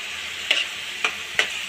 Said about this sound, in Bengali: চিপসটাকে ভালো করে ভেজে নেবেন।